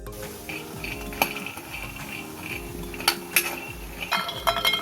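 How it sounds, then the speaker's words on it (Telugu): Peanuts frying in a pan give light, sparse clinks and rattles as they are moved around, with a few brighter ticks near the end over a steady low background hum. "ముందుగా మనం బాండి పెట్టుకొని అందులో పల్లీలు వేయించుకుందాం."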